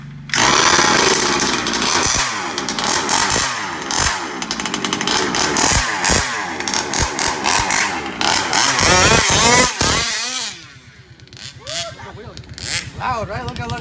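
A small engine runs loud and close, buzzing and revving in bursts with rising and falling pitch, then drops to a lower, rougher idle near the end, while a person talks over it.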